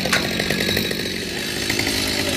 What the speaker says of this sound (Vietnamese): Chỉ cưa được vài nhánh thôi.